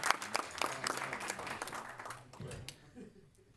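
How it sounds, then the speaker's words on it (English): Audience at a drum clinic applauds, a round of clapping with scattered sharp hand claps that thins out and fades toward the end, with some murmuring underneath. "Give yourself a round of applause."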